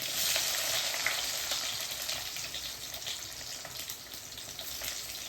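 Garlic, ginger and shallots sizzle steadily in hot oil in a pan, a continuous bright crackling hiss with faint stirring textures throughout.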